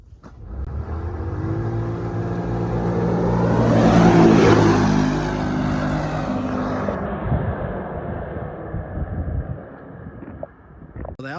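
Two off-road vehicles, an XMR Defender and a Lonestar Defender, race past in four-wheel drive, engines swelling to a loud peak as they approach, then fading off with gravelly rumble; no talking.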